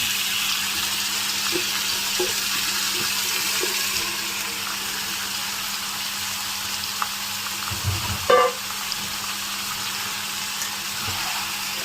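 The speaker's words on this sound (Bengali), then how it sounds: "এখন আমি এখানে পেঁয়াজ ভেজে নিচ্ছি, সাথে দিয়েছি কাঁচামরিচ আর দিয়েছি একটু গরম মশলা" Onions frying with green chilli and whole garam masala for a chicken bhuna, a steady broadband sizzle throughout with a brief louder clatter of stirring near the end and no voices.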